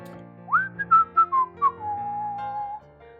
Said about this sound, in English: That's right. I was whistling.